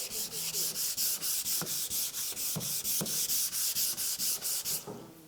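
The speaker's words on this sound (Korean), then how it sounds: "사포질 하실 때는 힘을 너무 많이 주지 말고 쓱쓱쓱" Sandpaper rubbed by hand over a wooden cutting board in quick rhythmic back-and-forth strokes, about twenty even swipes, close and clear, with a few soft knocks and no talk.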